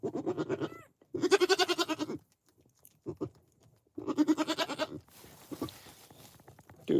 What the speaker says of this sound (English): These are pygmy goats.